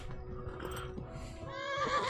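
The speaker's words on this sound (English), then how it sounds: "Whoa, horse" A horse whinnies in the medieval video game Kingdom Come: Deliverance, a fairly loud neigh that rises toward the end of a short stretch over a steady bed of game noise, with no talking.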